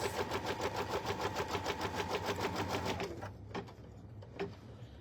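Embroidery machine stitching a puff foam in-the-hoop bag, a fast steady mechanical chatter of needle strokes for about three seconds, then stopping and leaving a few scattered clicks.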